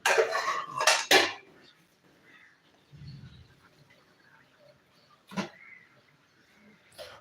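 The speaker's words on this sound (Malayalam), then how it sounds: "അയല ഇനിയിപ്പോൾ നമ്മൾ കണ്ടിച്ചൊന്ന് പീസ് പീസാക്കി ഒക്കെ എടുക്കണം" A knife chops through mackerel on a cutting surface in a home kitchen, giving a few sharp clattering knocks at the start and isolated thuds later, separated by quiet stretches.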